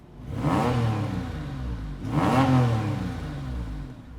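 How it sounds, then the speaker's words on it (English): A Porsche 997.1 Carrera S engine, sports exhaust on and in neutral, revs sharply twice with a throaty exhaust roar, each blip rising and falling, close and loud. "switch on the sports exhaust"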